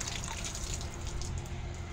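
Piped drinking water runs steadily at a simple rural farmstead, a continuous close wash of flowing and splashing water with no pauses and no voices.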